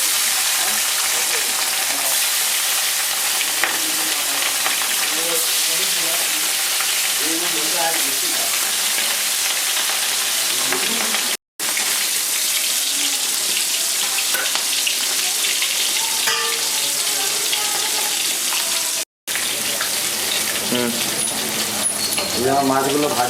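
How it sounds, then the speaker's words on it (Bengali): Pieces of katla fish frying in hot oil for a light potato and fish curry, a steady loud crackling sizzle running throughout with scattered pops and two brief cuts to silence. "আমার তেল গরম হয়ে গেছে, আমি মাছগুলোকে ভেজে নেব"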